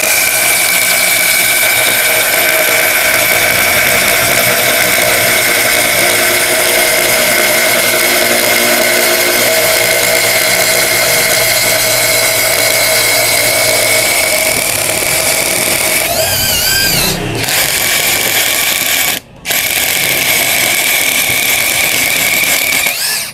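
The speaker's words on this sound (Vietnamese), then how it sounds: "Khoan cái là nó xuyên luôn, thấy không?" A Dekton cordless screwdriver drill runs continuously with a loud, steady high-pitched whine while drilling through material, the motor pitch wavering near the end with a brief stop before resuming.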